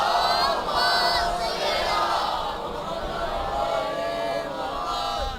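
A congregation at an imambargah majlis recites salawat aloud together, a dense, loud crowd of voices chanting in unison that holds steady throughout without pause.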